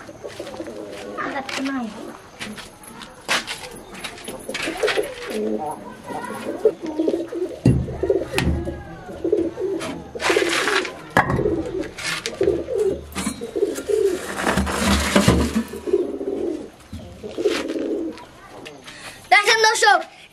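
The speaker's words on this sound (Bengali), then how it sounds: "এখন দেখাবো আমরা কবুতর" Pigeons coo repeatedly close by at feeding time, with rounded, rhythmic calls building in bursts, while someone talks over them at several points and bursts of wing flapping or handling noise break in.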